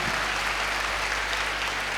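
Audience applauding students at an Independence Day flag hoisting celebration at a college in Patna, a steady wash of clapping throughout with no talk over it.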